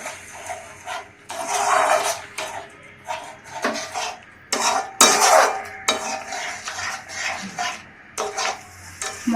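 Spices sautéed with paneer water in a pan for a niramish paneer rezala, with irregular close scraping and clattering of a spoon against metal over a soft sizzle.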